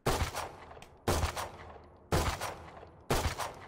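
Four loud, close shotgun-style blasts from a video game weapon's close-range burst fire, evenly spaced about a second apart, each sharp crack trailing into a short decay.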